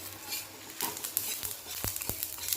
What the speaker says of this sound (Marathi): आणि आता व्यवस्थित असं भाजून घ्यायचं आहे एक तीन चार लाल मिरच्या टाकायचे